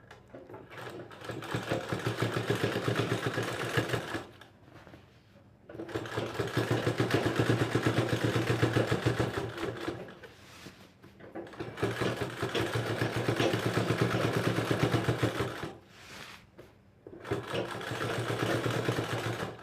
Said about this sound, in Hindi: यहाँ पे कॉलर पे भी सिलाई चलेगी।